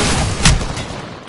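Video game gunfire in a loud, close burst of shots with a sharp peak partway through, over a dense rumbling battle background, with no talk.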